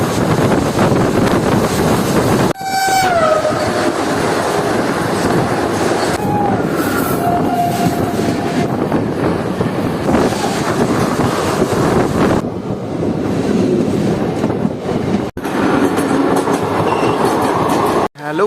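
The 13028 Azimganj–Howrah Kaviguru Express rumbles loudly along the track, with rhythmic wheel clatter, squealing wheels and rushing wind heard from inside the moving train.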